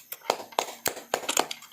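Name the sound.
classroom applause for group A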